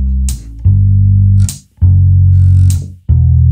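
Sustained low electric bass notes ring out one after another, each broken by a sharp metronome click that marks the beat. The playing is loud and close, with no voices.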